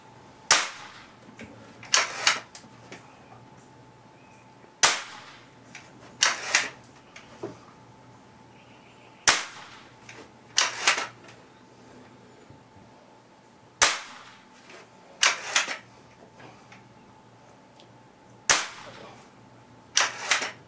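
An Air Venturi Avenger 1100 air rifle fires sharp snapping shots at regular intervals, each followed by a quick double click of cocking, recorded nearby in a quiet setting.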